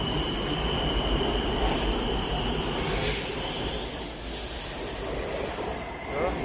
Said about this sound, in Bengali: ট্রেনটি ছেড়ে চলে যাবে